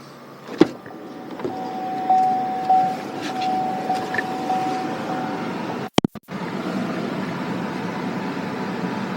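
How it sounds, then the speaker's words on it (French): Inside an electric vehicle, a whirring electric compressor hum and faint whine rise and fall, followed by a couple of sharp clicks and a steady fan rush. "on peut voir qu'il n'y a pas d'inquiétude à avoir quand on entend les sons sur un véhicule électrique"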